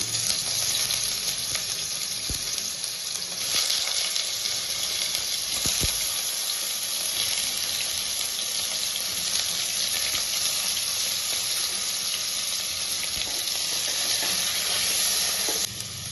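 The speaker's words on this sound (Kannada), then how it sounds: "ಪನ್ನೀರ್ ಕ್ಯೂಬ್ಸ್ನ ಸ್ವಲ್ಪ ಫ್ರೈ ಮಾಡ್ಕೋಬೇಕು." Paneer cubes fry in hot oil, a loud, unbroken sizzle that continues close up with a few faint knocks of stirring.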